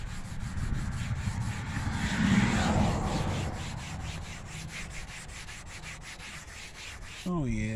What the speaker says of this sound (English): Sand it right on down here.